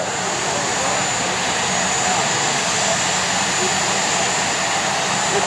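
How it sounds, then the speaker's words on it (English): Two jet dragster turbine engines roar at an IHRA Nitro Jam drag race in Spokane, a loud continuous high-pitched whine and rumble filling the air with no break. "Both jets, both turbines fired up, and the tow vehicle heading down the racetrack"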